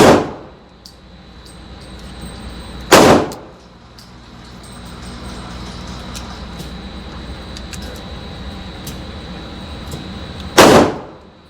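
Gunshots at a gun range, three loud, sharp, widely spaced reports ringing out close by over a steady background hum.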